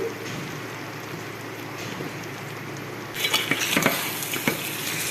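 Green chillies, onion, curry leaves and ginger-garlic paste fry for a gongura chicken curry, making a low, steady sizzle. Partway through, it turns brighter with sharp spatters and clinks from stirring in the pan.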